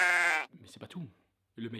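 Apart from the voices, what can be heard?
sheep bleating, played as a comedic sound effect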